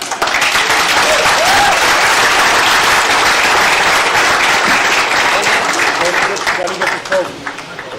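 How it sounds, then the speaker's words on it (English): Loud crowd roar with sustained applause at a harness racing track in Goshen, dense clapping and cheering filling the whole stretch before tapering slightly near the end. "one last big crowd roar for my brother"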